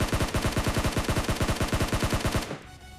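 Rapid automatic gunfire from a PUBG Mobile match rattles out in a steady burst of evenly spaced loud shots for over two seconds, then cuts off into quiet ambient game noise.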